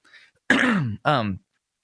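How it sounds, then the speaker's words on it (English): Two harsh throat-clearing coughs in quick succession, close and loud, with a faint murmur just before. "Sorry about the cough."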